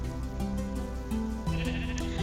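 Sheep in the video game Minecraft bleat in a series of short, wavering nasal calls, several overlapping in quick succession at close range.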